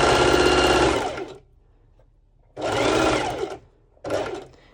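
A sewing machine stitches elastic onto fabric to ruche leggings, running in two steady bursts with a pause between and a shorter third burst at the end, close and loud.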